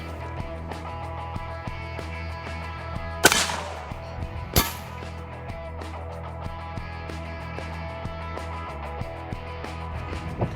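A Mosin Nagant M91/30 rifle fires 7.62x54R rounds at a body armor plate outdoors, two sharp, loud cracks about a second apart over a quiet steady background.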